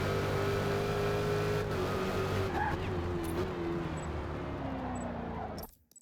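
A Dodge Hellcat roars around Watkins Glen in the Forza racing game, its engine droning loudly and steadily with shifting pitch under a faint voice before cutting out abruptly at the end.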